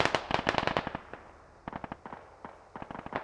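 Gunfire in a military video game as a squad comes under attack near tree lines: rapid bursts of sharp cracking shots, a dense volley followed by scattered single and paired reports, moderately close, with no talk.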